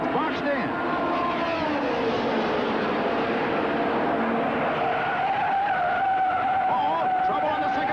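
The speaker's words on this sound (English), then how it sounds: "Mario Andretti grinds into the infield on three wheels" Indy race cars skidding and grinding during a crash at the 1967 Indianapolis 500, with a steady loud roar of engines and crowd throughout and a rising tire squeal held near the end, a commentator talking over it.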